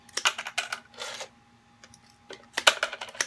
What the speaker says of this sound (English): now I'm just gonna cut them up in little